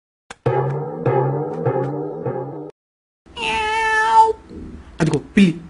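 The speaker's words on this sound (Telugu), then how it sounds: "అదిగో పిల్లి, పిల్లి అక్కడ ఉంది." A cat meows several times in drawn-out, tonal cries, a run of close, loud meows followed after a pause by a longer wavering yowl and two short sharp calls, with no talk over them.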